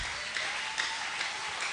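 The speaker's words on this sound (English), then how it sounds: "Let's clap for Jesus." Congregation clapping in praise at a church jubilee service, a steady dense patter of hands with a few louder accents, moderately near.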